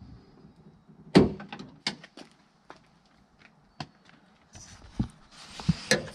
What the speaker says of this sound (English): I'll put the door panel back on, which is just the reverse of the removal